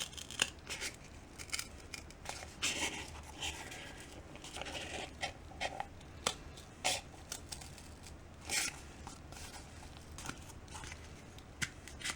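Scissors poke a hole and crunch through cardboard in a series of sharp, irregular snips and scrapes, close up with quiet pauses between.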